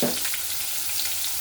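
Chopped onion hits hot spiced oil in a tempering for a potato curry with fried split-pea dumplings, giving a brief loud burst that settles into a steady close sizzle without talk.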